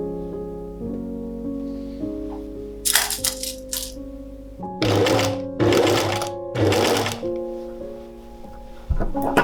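A sewing machine stitches curved darts in fabric for a fabric-only knight's-armor dress, running in several short bursts of a few seconds each over steady background music.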